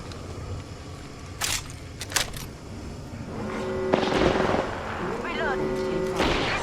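Gunshots in Apex Legends, a few sharp separate cracks early on, then a longer stretch of mixed game sound with tonal effects and a voice talking over it.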